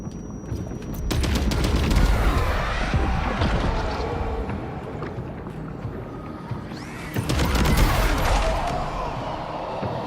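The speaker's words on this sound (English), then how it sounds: "I don't know who keeps hitting me with grenades." Grenade blasts and gunfire from a video game beach battle, with heavy booming bursts around two and eight seconds over a continuous, dense rumble of shooting, loud and close with no talk.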